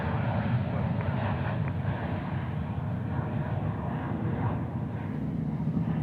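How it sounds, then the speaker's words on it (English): Boeing 787 Dreamliner at DFW airport, a steady low jet engine roar that stays loud and even throughout, with no voices. "I do love when it's the Dreamliner."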